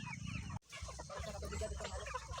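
Several chickens clucking close by, busy overlapping calls with a brief cut near the start, no talking.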